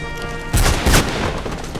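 Two quick, loud gunshots ring out in Mirror's Edge, close together, over a low humming game background.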